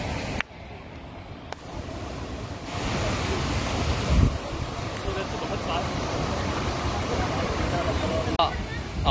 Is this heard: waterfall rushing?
yes